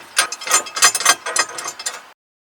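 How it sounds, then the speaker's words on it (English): A hand ratchet snugging a 1/4-20 bolt into a rear roll bar Molle bracket on a 4-door sixth-generation Ford Bronco, a loud close run of quick clicking bursts that stops abruptly. "I'm going to screw in one of these 1/4-20 bolts here, and I'm going to get this semi-snug"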